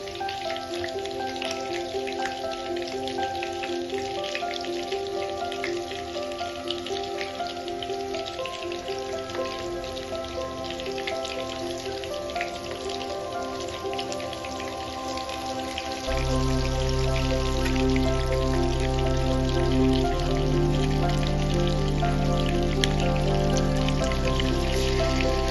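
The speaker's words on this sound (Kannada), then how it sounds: "ಲೋ ಫ್ಲೇಮಲ್ಲೇ ಇಟ್ಕೊಂಡು 2 ಸೈಡು ಸಹ ಚೆನ್ನಾಗಿ ಫ್ರೈ ಮಾಡ್ಕೋಬೇಕು" Chicken frying in a pan on low flame gives a steady, soft, rain-like sizzle that runs throughout under background music, with deeper tones swelling in the second half.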